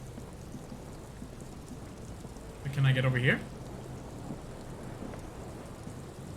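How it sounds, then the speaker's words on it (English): Steady rain with a low rumble of thunder in the video game Disco Elysium, continuous and fairly soft, while a player briefly speaks over it midway. "Oh, it's raining now."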